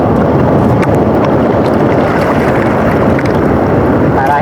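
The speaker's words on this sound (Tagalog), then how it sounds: "Napakalakas talaga ng amihan" A strong amihan monsoon wind roars over the sea around a small fishing boat, a loud, unbroken rush of wind noise with churning water underneath.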